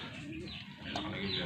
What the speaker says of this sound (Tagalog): Gandang kalapati niyan.